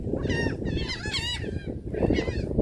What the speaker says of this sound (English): There's your seagull show.